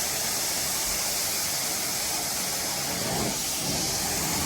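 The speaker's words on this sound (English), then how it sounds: "steaming it out now, neutralizing it, get it back to a neutral pH" A carpet steam cleaning extractor runs on pet urine stains in a home in St. Louis, giving a steady loud hiss and whoosh of suction and spray that continues unbroken, heard close with no voices.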